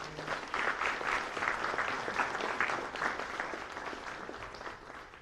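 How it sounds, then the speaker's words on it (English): A conference audience claps in sustained applause at the end of a sport summit panel, fairly close and even, fading slightly toward the end. "Can we get a round of applause for everybody?"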